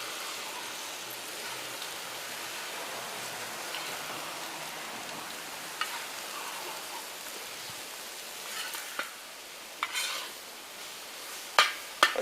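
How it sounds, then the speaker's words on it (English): Eggs are worked around a seasoned skillet for a breakfast burrito, giving a soft, steady sizzle with light scraping and a few sharp clicks of the utensil toward the end. "We're just going to start working those eggs."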